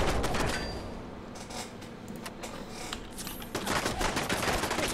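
Bursts of gunfire from a Fallout 4 firefight crackle in dense, rapid volleys throughout, loud and close, swelling further near the end with no talking.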